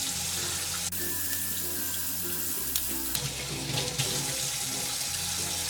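Tap water runs steadily into a sink while a large crab is washed clean, a continuous close splashing stream with brief clatters of handling and no talk.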